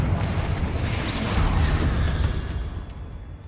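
Confringo spell blast in Hogwarts Legacy: a broad fiery rushing roar with a swelling whoosh midway, loud and steady before easing off toward the end.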